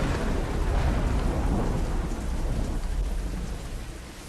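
Heavy rain pours steadily in a dense, broadband hiss with a low rumble beneath, loud and continuous throughout.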